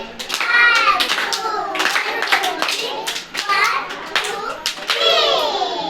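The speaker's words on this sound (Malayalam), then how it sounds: "1 2 3 ക്ലാപ്പ് കൊടുത്തേ." Children clap together in a classroom, bursts of sharp hand claps mixed with lively children's voices talking and calling out throughout.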